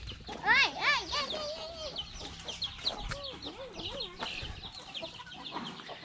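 Chickens cluck and squawk nearby in a backyard pen where ducks and chickens are raised, a busy, irregular chatter with a few higher calls and faint background voices.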